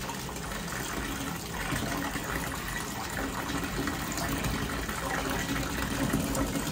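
Water running steadily from a tap into a bathtub, a continuous close gush with no pauses, filling the tub.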